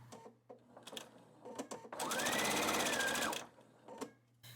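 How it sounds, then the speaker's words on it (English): A sewing machine stitching patchwork squares into rows whirs in a single steady burst of rapid needle clatter lasting over a second, framed by faint handling clicks and rustles before and after. "The next step will be to sew these into 3 rows, and then to sew the rows together in classic patchwork fashion."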